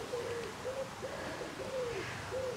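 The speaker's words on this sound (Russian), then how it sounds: "Саш, слышишь, голуби?" Pigeons coo outdoors at Ortenberg Castle in Baden: several soft, repeated hooting phrases at a moderate distance, spaced evenly over steady open-air background noise.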